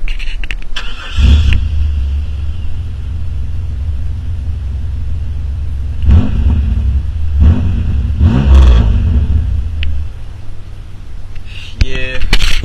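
A car with 190,000 miles on it idles with a deep, steady rumble nearby, then revs in several loud bursts before settling again, with a voice speaking now and then over the engine.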